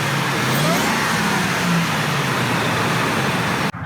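A 2001 Ford F-150 SVT Lightning truck engine revs loudly and steadily up close, a throaty sustained roar with rising pitch sweeps, ending with a sudden cut near the finish; no talking.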